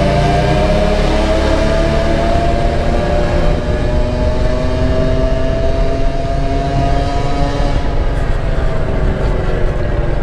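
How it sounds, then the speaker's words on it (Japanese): A loud Honda Gyro Up motor scooter fitted with an expansion chamber exhaust rides by on an Osaka street, its buzzing engine note droning steadily and rising and falling as it passes close by. "さっきのうるさいバイク、うわ来た。"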